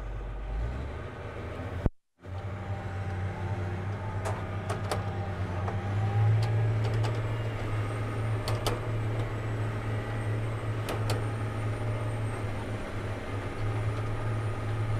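A tractor pulling a Kinze Mach Till 201/261 tillage tool, accelerating after a brief cut, then a steady loud engine drone with occasional clanks and rattles, close and continuous.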